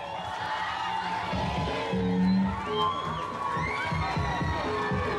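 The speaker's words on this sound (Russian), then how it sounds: "Отлично, отлично, отлично, друзья, ваши аплодисменты." A crowd at a breakdance championship in Abkhazia roars and cheers steadily, with whoops and shouts rising over the din and an announcer's amplified voice mixed in.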